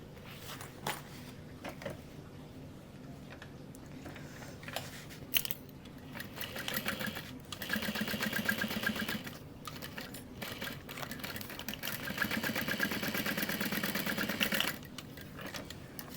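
A sewing machine stitches the lining and exterior of a tote bag at a half-inch seam allowance, in several close mechanical runs of rapid rattling separated by short pauses.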